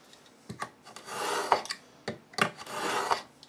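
Scissors or a blade cut through paper for an autumn birdhouse craft, with scratchy rasping strokes in short irregular bursts, close and fairly quiet, with no talk.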